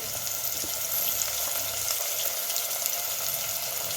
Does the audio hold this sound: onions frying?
yes